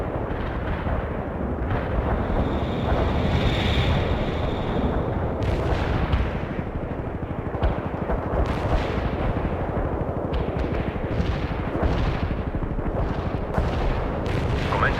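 Artillery barrage in the World in Conflict video game: a dense, continuous rumble of heavy booms and blasts, shells landing one after another at close and middle range, with sharper cracks cutting through the low roar.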